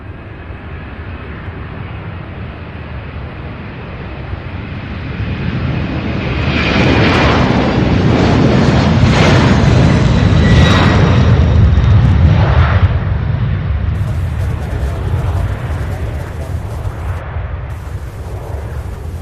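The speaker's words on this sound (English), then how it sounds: "this A300 off to San Juan, Puerto Rico. UPS flight 328." A UPS Airbus A300 jet takes off at an airport with a loud, sustained engine roar that swells to a peak and slowly fades, heard from the field at a distance with no talk.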